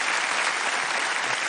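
Steady, full applause from a television audience at a stage hypnosis show, many hands clapping together without any voices on top.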